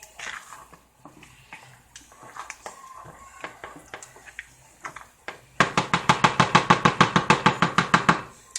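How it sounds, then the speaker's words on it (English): Rapid regular knocks, spoon or utensil striking a pot while stirring seasoned grits, come in a fast loud burst near the end after quieter scattered clinks and scrapes. "Stir it."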